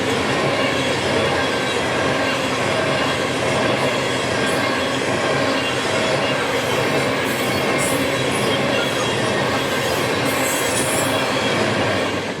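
A CN ET44AC locomotive in bright orange commemorative paint hauls a freight train past in Upstate New York, a loud continuous rumble of wheels and cars with occasional high squeals and clicking over rail joints.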